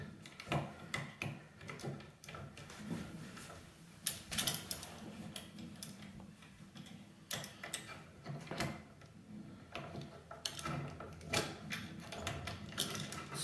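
A key being worked in a cabinet lock with its screws loosened, giving a run of small metallic clicks, ticks and rattles close up and fairly quiet, with no talking.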